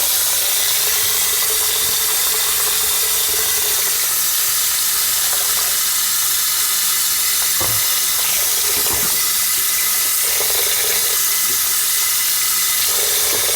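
Hot water runs steadily from a tap to warm toilet wax, a continuous close hiss and splash with a few faint clunks and knocks partway through, no voices.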